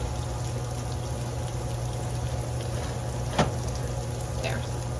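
Sausage, potatoes and sauerkraut searing in a hot pan give a steady, moderate frying hiss throughout, with a couple of brief scraping or stirring clicks.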